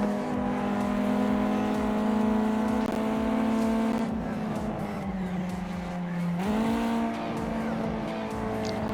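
Race car engine in a racing video game, a loud continuous revving drone with pitch shifts as the car slows into turns and speeds up again, with some tire noise mixed in.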